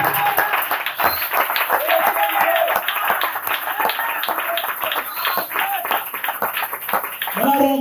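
Church congregation applauding together during a French-language campaign service, steady dense clapping from many hands filling the room for several seconds, with voices mixed in.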